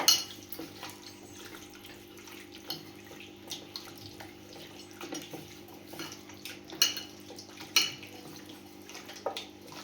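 Chicken being mixed with salt and red chilli powder for biryani in a kitchen, heard as faint scattered clinks and soft scraping against a dish over a quiet steady background hum, with no talking.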